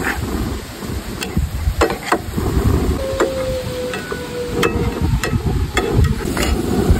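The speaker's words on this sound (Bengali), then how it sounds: "তো এবার আমি ভালো মতন কষিয়ে নিব।" Onion and chili stir-fried with salt and turmeric in a pan, a soft sizzle with spatula scrapes and clinks against the pan, recorded close with no talking.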